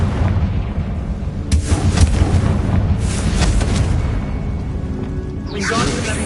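Confringo blasting spell in a wizard-themed video game, several booming explosive bursts with crackling debris, loud, mixed with game sounds and a spoken voice.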